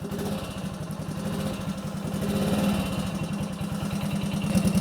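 A vintage Honda motorcycle engine idles with a steady, rapid, even putter, loud and close throughout, with no voices.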